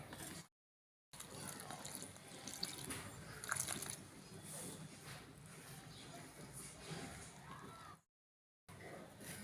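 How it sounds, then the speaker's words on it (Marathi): Water is added little by little to oil-rubbed wheat flour while kneading a stiff dough for masala puri, giving quiet, intermittent trickling and wet splashing close by in a kitchen, with brief silent gaps. "आता आपण थोडं थोडं पाणी घालून भिजवून घेऊया।"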